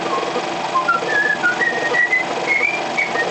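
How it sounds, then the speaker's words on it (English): A man whistles a happy, bouncy tune, clear and steady throughout over faint background hiss. "he was whistling a happy tune"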